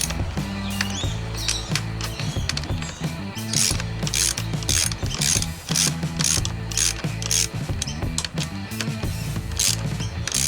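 Ratchet tightening the handlebar clamp bolts on a Suzuki DR650 motorcycle, a continuous loud, close, rapid clicking that comes in repeated strokes.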